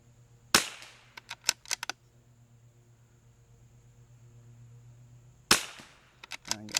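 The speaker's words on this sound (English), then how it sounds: "you're gonna see I'm shooting off a bag" Two sharp 22LR rifle shots ring out several seconds apart, fired from a rest bag at long range outdoors. Each crack is followed by short clicks and a faint echo, and no one speaks.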